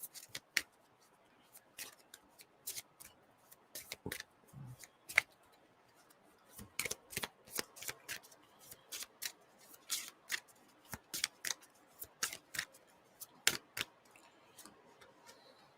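Tarot cards handled and shuffled in sharp, quiet flicks and snaps, scattered at first, then more frequent and regular, close up in a quiet room.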